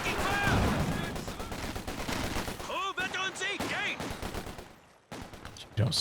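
Rapid bursts of machine gun and rifle fire from a Company of Heroes 2 two-versus-two battle crackle in quick volleys, with a commentator talking over the shooting and a brief lull near the end.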